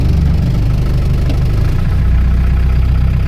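A 1990 project car engine idles at about 1,000 rpm, a steady low, even rumble that stays close and constant throughout, with no other sounds over it.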